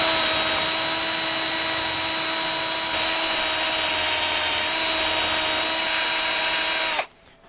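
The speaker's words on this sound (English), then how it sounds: "we're going up sizing the drill bit" A steady, high-pitched power drill with a larger bit whines continuously at close range for about seven seconds while enlarging a hole in a giant slip ring, then cuts off abruptly.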